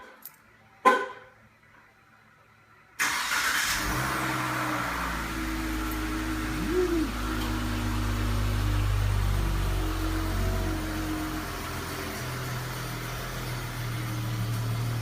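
A car engine fires up by remote start inside a closed garage, a sharp catch followed by a steady low idle rumble that fills the enclosed space, with a few faint clicks beforehand.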